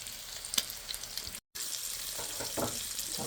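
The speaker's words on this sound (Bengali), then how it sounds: "এভাবে আস্তে আস্তে আমি ভেজে নেব।" Fish sizzling steadily in hot oil in a pan, a continuous close frying hiss with soft crackles and a brief gap midway, no voices.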